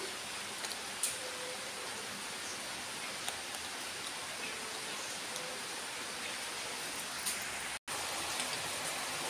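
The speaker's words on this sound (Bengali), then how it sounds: "খুব জোর বৃষ্টি হচ্ছে।" Heavy rain falls in a steady, broad hiss with scattered louder drips and taps, constant through the whole stretch, with one sudden brief dropout near the end and no voices.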